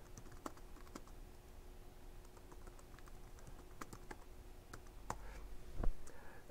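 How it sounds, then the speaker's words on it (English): Sparse, irregular keystrokes on a computer keyboard during a typing proficiency test, with a few sharper clicks and some quiet pauses between them, heard close against a faint steady background hum. "This is how you type."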